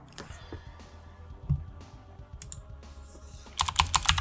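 Typing on a computer keyboard at a desk, with sparse soft keystrokes at first and then a quick, louder burst of close clicking at the end.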